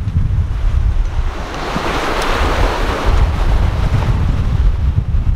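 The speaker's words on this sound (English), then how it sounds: "The wind's quite strong" Strong wind roars over the Caribbean Sea aboard a sailing yacht running with a reefed main and jib, with heavy wind buffeting on the microphone and waves rushing along the hull, loud and continuous.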